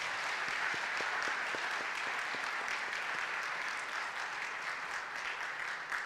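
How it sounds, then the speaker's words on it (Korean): A church congregation applauds during a Sunday service farewell for two departing pastors, a broad wash of many hands clapping with a few distinct nearer claps early on, steady and moderately loud throughout. "자, 우리 박수 한번 하겠습니다."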